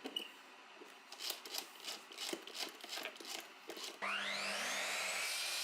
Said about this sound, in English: I'm going to drill holes for the threaded inserts. I'll screw them to the board with a column drill to ensure they're square.